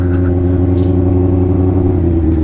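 An engine lopes at low RPM while driving, a steady, deep, rumbling idle-like pulse heard close and loud from start to end without a break.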